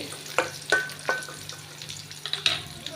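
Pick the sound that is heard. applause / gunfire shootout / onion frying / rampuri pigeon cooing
onion frying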